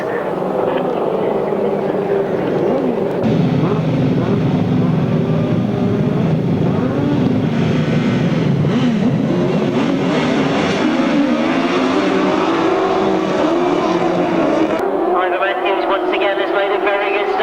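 Grasstrack racing motorcycles roar past at a 1995 bonfire meeting, engines snarling loudly and continuously as the bikes run down the back straight toward a bend, with a commentator's voice running over the engine noise.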